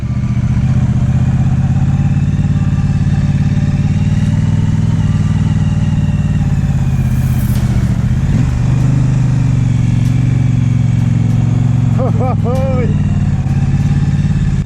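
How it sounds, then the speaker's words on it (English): A Triumph Street Twin motorcycle climbing a steep Lake District pass in first gear: a loud, continuous engine drone with wind rush, close and unbroken, with a voice talking over it. "I am in first gear and I'm giving the bike all she's got"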